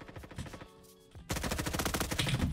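An MP5 fires in a Call of Duty-style Roblox shooter: a short pause, then a loud, rapid automatic burst of evenly spaced shots running to the end, with no talking.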